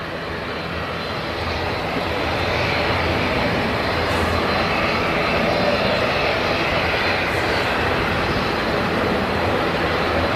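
A Ryanair Boeing 737 MAX arrives at Manchester Airport on a Thursday evening, its engines producing a loud, broad, continuous roar that swells slightly as the jet passes overhead.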